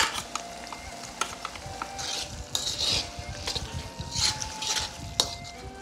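Eggplant is stirred and cooked in a pan for mapo eggplant: soft sizzling under repeated scraping and clinking of a utensil against the pan, with louder stirring bursts, close up, with no talk.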